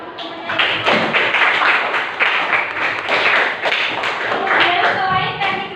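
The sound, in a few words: applause for a student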